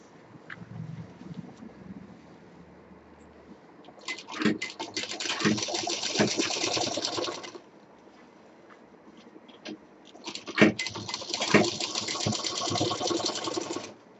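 A sewing machine stitches a bag from synthetic crepe silk fabric, running in two loud, steady whirring bursts of a few seconds each, separated by quieter handling sounds.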